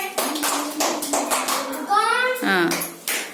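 Children clapping hands together during a primary school environmental studies class, a short burst of claps mixed with a voice and a teacher speaking.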